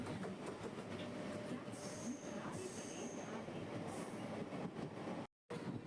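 A Mumbai local train on the Churchgate fast line running along, with a steady rumble, wheel clatter and a few squeals heard from inside the carriage, ending in a brief dropout and a bump.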